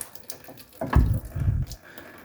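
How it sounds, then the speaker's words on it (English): Fluid draining from a suspension component of a 1983 Mercedes 300TD into a drain pan, a short trickling splash of about a second that swells and fades, fairly close with no talking. "Let's just drain that into our pan here."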